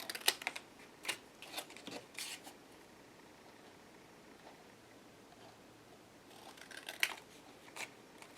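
Scissors cut paper pieces in half for a handmade book, giving close crisp snips and rustles in two clusters separated by a quieter gap, with no talking.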